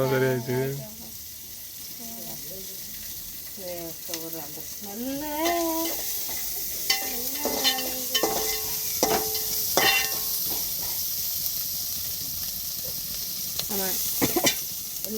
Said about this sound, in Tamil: வெங்காயம் போட்டோம்ல வெங்காயம் பட்டை வகையெல்லாம் நல்லா வந்து வதங்கிடுச்சு